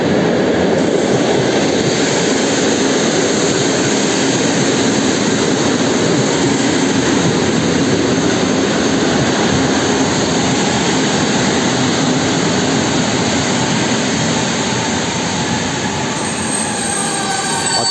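A train rolls through Gdynia Główna station, a loud, close, continuous roar of wheels and rail noise that holds steady for the whole stretch with faint high squeal near the end.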